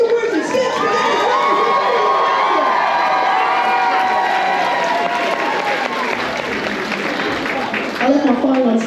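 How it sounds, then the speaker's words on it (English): Audience at a cosplay contest claps and cheers loudly and steadily, with shouts and whoops mixed into the dense crowd noise throughout, a few voices rising near the end. "All right, give them all a round of applause."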